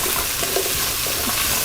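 Carrot and celery hitting a hot pan with lamb shanks, producing a steady, dense frying sizzle close up, with faint stirring knocks underneath.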